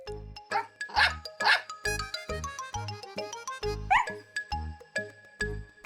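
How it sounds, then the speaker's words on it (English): A cartoon dog barks repeatedly in short, close yips and woofs, a lively string of barks with brief pauses between them. "barked happily"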